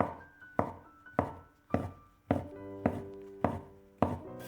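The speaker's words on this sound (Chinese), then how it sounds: "再改刀切成小块" Knife chopping shiitake mushrooms into small pieces on a cutting board, eight sharp, evenly spaced chops about half a second apart, close and clear with nothing else heard.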